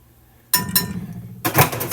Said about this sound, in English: Add it to your dry ingredients and whisk it all together.